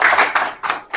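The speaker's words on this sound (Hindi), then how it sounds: "उनके लिए तालियां" Brief bursts of close handclapping from an audience at a Dalit literature gathering, a few quick rhythmic claps over about a second.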